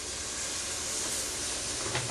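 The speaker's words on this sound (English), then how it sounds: "You can hear it sizzle." A steady, broadband frying hiss of sausage gravy sizzling in a hot pan, continuous and close without pauses.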